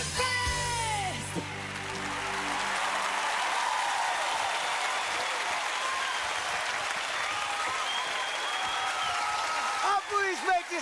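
Loud applause from a television show audience, sustained clapping that fills the clip, with some music and voices fading out at the start after an impersonation.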